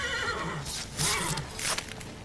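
A horse whinnying in The Witcher 3, two clear neighs close together over faint hoof clopping and game ambience.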